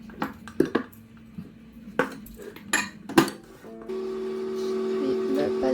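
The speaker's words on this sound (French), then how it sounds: "dans le bol un mixeur, j'y rajoute les morceaux de tomates." Tomato pieces tipped into a blender bowl while making homemade pizza sauce, giving several sharp knocks and clinks against the bowl, followed by a steady hum, with a voice speaking in the background.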